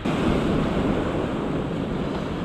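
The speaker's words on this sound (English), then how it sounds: "The wind has picked up a bit" Steady wind roaring over open sea during boat-based slow-jig fishing, with broadband gusting noise and surf wash filling the background continuously; no talking.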